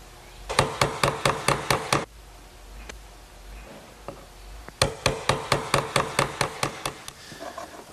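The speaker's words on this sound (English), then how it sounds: "Now I'll just use a nice sharp chisel to square up the back corners." A sharp chisel struck with a mallet to square up the back corners of a wood cutout. Two quick runs of about eight crisp, evenly spaced knocks are heard up close, with a few scattered taps between them.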